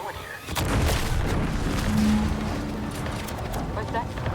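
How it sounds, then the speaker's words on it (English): An explosion in the video game The Outer Worlds 2: a sustained low rumbling blast with roaring debris and background game sounds lasting several seconds, loud and close. "What's that? An explosion?"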